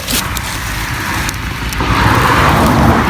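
A car drives past on a forest road while mushrooms are being picked, a steady close engine and tyre noise that grows louder toward the end, with no talk.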